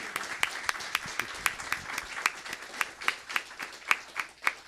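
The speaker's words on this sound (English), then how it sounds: "Please join me in a big round of applause for him." Applause for Chief Dunn at a board meeting, a modest crowd clapping in a quick, fairly even rhythm, sharp individual claps standing out, with faint voices underneath.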